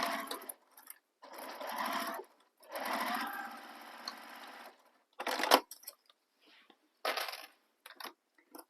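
A sewing machine bastes a flap onto a handbag in short stitching runs, several bursts of steady whirring separated by pauses, with a few small clicks and handling sounds between them, close and alone.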